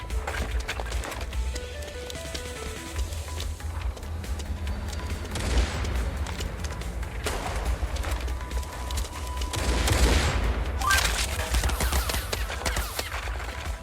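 Minigun fire in the Pixel Gun 2 video game, bursts of rapid gunfire over a low game rumble, growing denser and louder toward the end.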